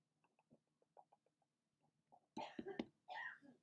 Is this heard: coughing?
yes